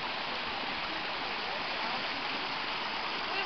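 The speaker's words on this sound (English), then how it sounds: "We've got some water flowing." Continuous broadband rush of a waterfall's flowing water in Missouri, steady and close, with no breaks or voices.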